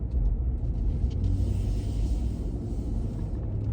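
A 2020 Ram 1500 Laramie pickup with a V8 engine drives and turns, heard from inside as a steady low rumble of engine and road noise with no talking.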